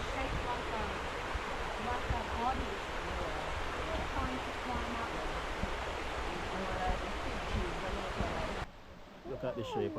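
A rainforest waterfall roars as a dense, steady wash of falling water, loud and continuous, then drops away abruptly near the end into quieter ambience.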